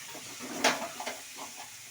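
Marinated food sizzles in a hot frying pan while a utensil stirs it, with soft scraping sweeps and a steady hiss at low volume and no talking.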